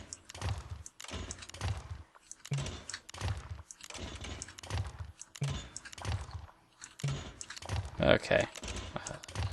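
Computer keyboard keys tapped in short, irregular bursts while panning with the WASD keys and holding shift in SimCity, close and fairly quiet, with brief pauses between clusters and a voice speaking briefly.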